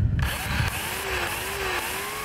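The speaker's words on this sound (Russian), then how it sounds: "Теперь включаем вилку, проверяем работу пилы." A Daewoo electric chainsaw switches on and runs with a steady high whine and a rising, wavering motor pitch. The sound is loud and close, with no speech.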